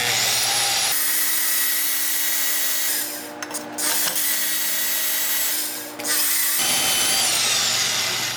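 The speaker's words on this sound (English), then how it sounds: "Gotta cut the hanger off of this guy right here." A power tool cuts through an exhaust hanger on a custom exhaust for a WRX-swapped 2.5RS street rally car, a loud steady grinding whine that dips briefly midway before resuming until near the end.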